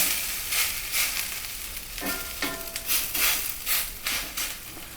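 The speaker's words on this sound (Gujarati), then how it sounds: "હવે આપણે એકદમ હળવા હાથે પુડલું ઢોસો જે છે એને આપણે ઉથલાવી દઈશું" Farali dosa sizzling and crackling in an oiled pan, with soft scraping and a few gentle clinks as it is lifted and turned over, steady frying noise throughout at close range.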